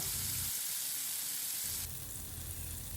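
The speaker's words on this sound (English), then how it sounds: "when the oil is hot, we will add the Basa fish fillet seasoned with salt and black pepper" Basa fish fillet seasoned with salt and black pepper sears in hot olive oil in a pan, giving a loud, continuous sizzle with a brief dip early on and a shift in texture partway through.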